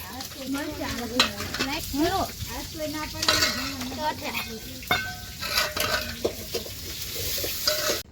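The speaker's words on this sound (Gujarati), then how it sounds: "મરચા તળાય છે" Green chilies frying in hot oil, a continuous sizzle with repeated scraping and clinking of a spoon stirring in a metal pan, close and fairly loud, with bits of background voices and household noise.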